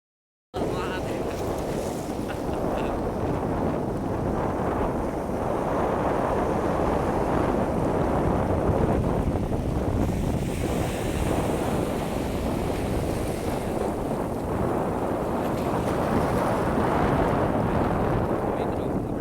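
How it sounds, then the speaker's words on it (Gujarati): Sea waves and wind roar steadily at the shore of Sikotar Dham, a dense and loud unbroken wash of surf and gusting air with no pauses and no speech. "જો આ દરિયો છે, આ સિકોતર ધામ."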